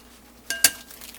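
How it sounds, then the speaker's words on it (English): Two quick clinks of a utensil against a bowl as chopped broccoli and onions are mixed together, close and fairly quiet, with no talking. "I'm just going to mix the broccoli and the onions together"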